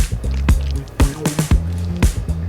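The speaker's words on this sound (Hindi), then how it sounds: "ये घुल जाए इसलिए इसे मिक्स करना जरूरी है।" Starch being stirred into water in a large pool to make a non-Newtonian fluid, loud rhythmic wet sloshing and squelching strokes about every half second, close and without talk.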